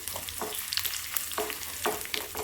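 Mustard seeds, shallots, curry leaves and five dried red chillies fry in hot oil as a tempering for Kerala-style coconut fish curry, a busy steady sizzle with frequent crackles and spitting pops, close and fairly loud.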